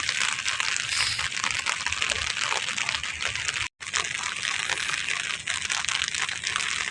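Steady monsoon rain pours down on Manila Bay in a dense, continuous hiss with splashing water, close by and loud throughout, with a brief cut partway.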